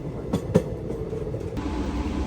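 A Danapur to SMVT Bangalore special train rumbles steadily from onboard, with a couple of sharp clanks early on over the continuous low running noise.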